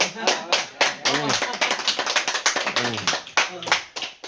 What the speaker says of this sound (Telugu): క్లాప్స్ కొట్టమ్మా